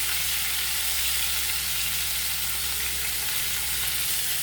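Onions and dal fry in hot oil in a pan, giving a steady, close, loud sizzle that holds without a break and has no talk over it.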